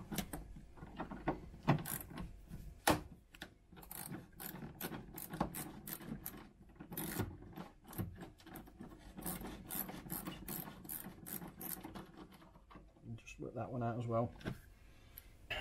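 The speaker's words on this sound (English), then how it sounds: "So again, we get the ratchet in." A ratchet loosens a mounting bolt tucked behind the rear wheel liner of a Ford Focus, making quick runs of sharp clicking and rasping at close range while someone talks over it.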